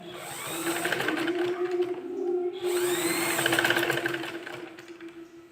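A sewing machine stitches fabric in two steady runs with a short pause between them, a close, moderately loud whirring hum.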